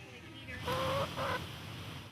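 A farm chicken kept for an egg business in Middle America lets out a brief, soft series of clucks and a short squawk, heard nearby against a quiet background.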